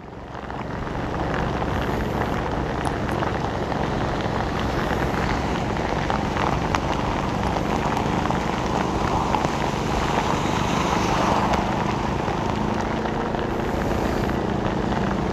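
Heavy downpour drums on a Saigon street in a steady, unbroken roar, close and loud throughout with faint traffic hum beneath.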